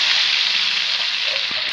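Garlic, onion and tomato sautéing in a pan, giving a bright, steady hiss of sizzling from close by that stays even for a couple of seconds, with no talking.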